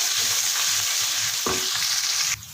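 Ginger garlic paste sizzles and fries in ghee in a pan for Multani chicken karahi, a steady loud crackle with a brief stir or scrape partway through before the frying hiss drops slightly.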